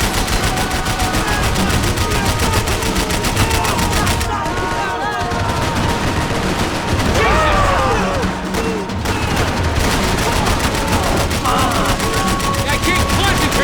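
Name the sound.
gunfire and bullets whizzing past in video game Max Payne 3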